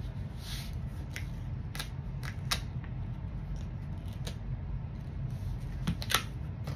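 Scissors cutting foam board into strips, giving scattered sharp snips and crunches over a steady low room hum, close and moderately quiet.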